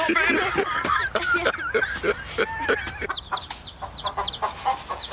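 A rooster clucks in short bursts amid busy background noise and some talking, with sharper chirps from smaller birds near the end.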